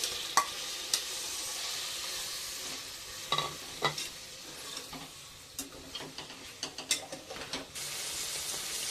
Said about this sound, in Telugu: మటన్ ఇంకా బాగా ఫ్రై అయిపోయింది.